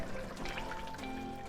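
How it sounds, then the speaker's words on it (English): Water poured into a pot while cooking traditional Uzbek plov, a short soft trickle and splash at close range, fairly quiet, with no talking. "So put some water."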